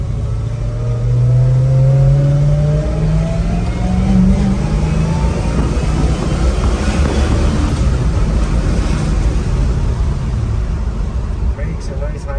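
A restored 1964 Chevrolet Chevelle Malibu SS with a 4-speed manual being driven, its engine droning loud and close with rising and falling revs as gears change, steady throughout.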